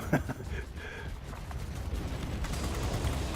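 Aircraft guns on the XF5U fighter in World of Warplanes rattle in a steady, rapid stream of shots over engine rumble, a continuous loud barrage with no voice over it.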